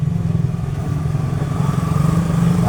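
A motorcycle engine runs at a steady idle nearby, a low continuous throbbing rumble with slight fluctuations, with no talk over it while its chain tensioner and bolts are being adjusted.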